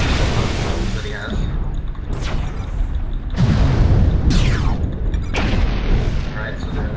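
Mech weapons firing in MechWarrior Online with a Trial CN9-AL Centurion, several heavy booming shots and whooshing projectile sweeps over constant engine rumble, with someone talking throughout.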